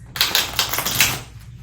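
Tarot cards being shuffled, a brisk run of crisp, close riffling flutters and snaps lasting just over a second, with no voices.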